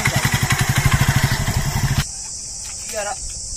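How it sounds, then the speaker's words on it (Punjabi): A motorcycle engine thumps in a steady, rapid idling rhythm up close for about two seconds, then cuts off abruptly, leaving a faint insect-like hiss. "ਮੋਟਰਸਾਈਕਲ ਤੇ ਬਾਹੋ ਨੀ, ਮੋਟਰਸਾਈਕਲ ਤੇ"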